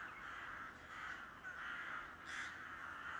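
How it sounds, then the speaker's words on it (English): Crows cawing in autumn, several harsh repeated calls in a steady rhythm, faint and distant, with no voices. "one mark of fall is that the corvids return"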